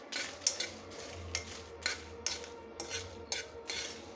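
Dried red chillies dry roasting in a pan over a low flame, soft rhythmic rattling and tapping as they are stirred, quiet and close with no voices.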